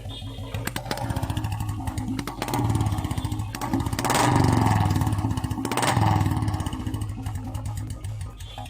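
A modified Royal Enfield Bullet Standard motorcycle engine with a deep, loping thump revs up and down several times, loud and close, swelling then settling back to idle.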